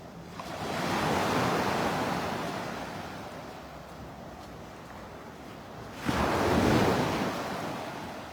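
Ocean surf breaking on the beach at Delnor-Wiggins in North Naples, Florida, a steady wash of waves with wind noise, swelling around the first second and surging again with a fresh break near the end.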